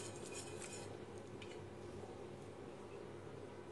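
A spoon stirs starch into boiling plum marmalade in a pot while making plum pestil, with light scraping and clinking against the pot over a steady background hum, close and moderately quiet.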